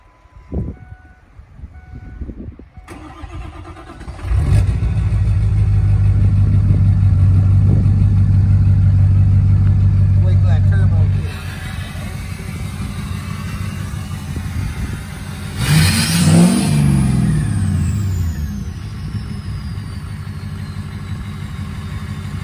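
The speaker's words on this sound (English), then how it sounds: "I'll fire her up and let you guys hear those dragons" Straight-piped 6.0 Powerstroke diesel pickup with a variable vane turbo starts up, settles into a loud rumbling idle, then revs hard with a rising turbo whistle before dropping back to idle, close and dominant with no talking.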